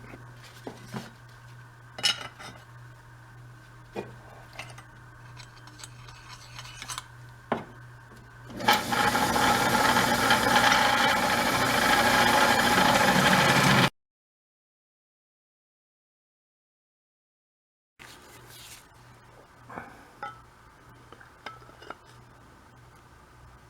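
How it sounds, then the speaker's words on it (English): A piece of metal plate being cut out for new rear-end gears on a Model A hot rod. Scattered taps and scrapes give way to a loud, harsh, continuous cutting rasp lasting several seconds before it abruptly stops. "Now we'll transfer this shape to this piece of metal. So let's cut this out."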